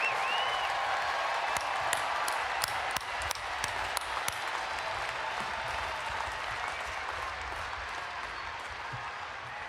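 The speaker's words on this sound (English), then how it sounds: "let's have a round of applause for our university police" Sustained applause from a large commencement crowd at UNC-Chapel Hill honoring the university police, broadband and steady for nearly ten seconds with a few sharper claps and whistles standing out.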